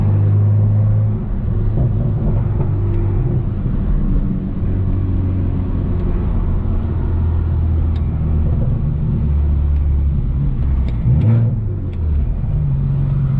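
A 600+ horsepower all-wheel-drive BMW 335xi with a six-speed manual gearbox accelerating on the road, a loud steady engine drone heard from inside the car with rising revs and a brief dip at a gear change.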